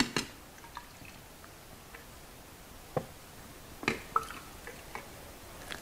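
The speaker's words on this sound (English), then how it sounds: "gently drop this very new hydrometer into a very old graduated cylinder" A hydrometer dropped into an old graduated cylinder of strawberry green apple mead, giving sparse, faint glassy ticks and small clinks scattered over several seconds in a quiet room, with no talk.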